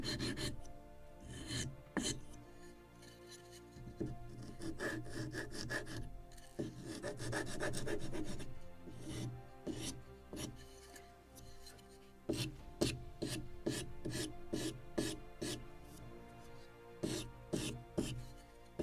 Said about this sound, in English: Okay, I need a sanding block.